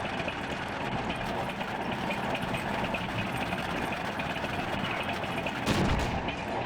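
An anti-tank gun fires once in a Men of War: Assault Squad 2 battle, a single heavy boom late in the clip standing out from a continuous engine rumble and distant war noise.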